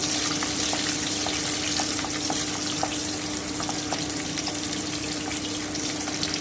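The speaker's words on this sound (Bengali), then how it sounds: "এইবারে এই তেলে আমি প্রথমে ক্যাপসিকামটা দিয়ে দিচ্ছি আমি একটু নেড়ে নিচ্ছি" Chopped capsicum fries in hot oil in a pan, a steady, dense sizzle with occasional faint clicks of stirring, close and continuous throughout.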